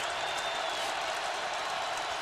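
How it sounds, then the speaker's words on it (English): Steady, dense roar of a stadium crowd cheering for the home Colts at an NFL game against the Tampa Bay Buccaneers. The broad wash holds an even level throughout, with no single voice standing out. "Crowd is getting into it"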